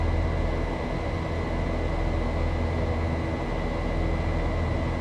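A Boeing 737-800 airliner climbing after takeoff in the X-Plane 11 flight simulator, heard as a steady, loud, unbroken engine and airflow roar with no change in level and no talk.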